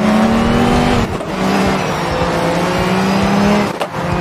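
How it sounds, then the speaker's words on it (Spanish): Rallycross car sliding in a racing video game: a loud, close engine drone with a steady whining tone, broken by two short dips where the tyres scrub and the revs waver. "Me patina demasiado el, el auto ahí."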